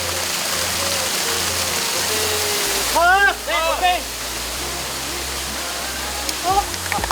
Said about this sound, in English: Waterfalls are cold.